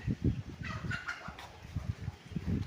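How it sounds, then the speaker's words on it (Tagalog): Chickens cluck in short, repeated bursts close by, with a few higher squawks mixed in. "may mga alaga silang manok"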